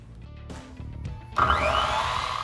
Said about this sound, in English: his massive skill saw to come cut these posts